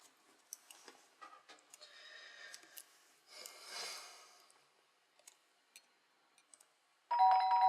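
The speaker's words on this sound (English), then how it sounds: "That's the doorbell," Quiet room with scattered soft clicks and rustling, then a bright electronic doorbell chime rings out loudly at the end.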